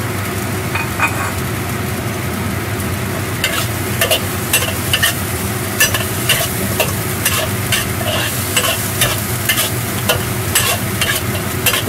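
Fish-fragrant eggplant with spring onions being stir-fried over high heat in a wok, giving a continuous loud sizzle broken by repeated sharp scrapes and clacks of the spatula, with no talking.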